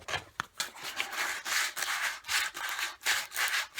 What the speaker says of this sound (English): rough it up with the sandpaper and everything